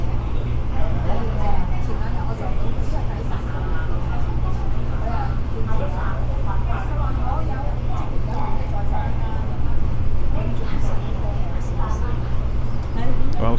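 A train running from Hong Kong to Shenzhen gathers speed, giving a continuous low rumble and steady rolling noise heard from inside the carriage with faint background chatter.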